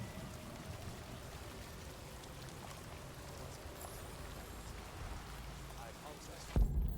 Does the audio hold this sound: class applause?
no